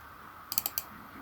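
Four quick, crisp computer keyboard key presses tap out in a short burst, close and clear over a faint background hiss.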